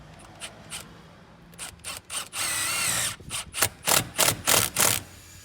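A power drill drives a self-drilling screw, whirring in a sustained burst, then revving in a series of short rhythmic pulses as it bites in, close and fairly loud.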